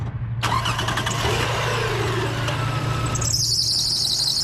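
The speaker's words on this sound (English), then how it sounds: "all right, let's start her up" A 2005 Toyota Highlander Limited V6 with 225,000 km cranks briefly and catches, then settles into a steady mid-pitched idle with a constant low hum, close and loud, with no talking.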